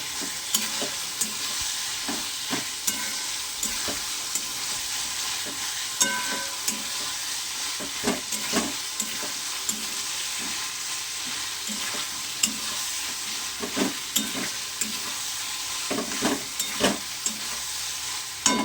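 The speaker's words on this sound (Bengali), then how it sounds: "এই যে ভেজে রাখা আলুটা মশলার সঙ্গে ভালো করে মিক্স করে নিচ্ছি" Fried potato is stirred into a sizzling mustard fish curry masala in a pan, with a constant frying hiss and repeated scraping, clattering stirs up close, and no voices.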